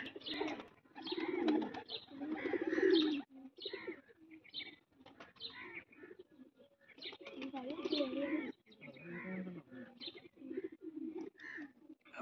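Soft, low pigeon cooing repeats over several seconds, mixed with murmuring Punjabi and Hindi voices and faint chirps nearby.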